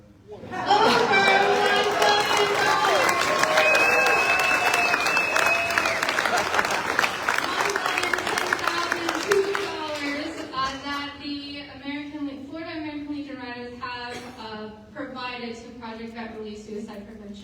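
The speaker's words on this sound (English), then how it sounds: "Let's take another round of applause for you all." Loud, sustained applause fills a summit general session as checks for a suicide prevention initiative are presented, the dense clapping tapering after about ten seconds into cheering and crowd voices.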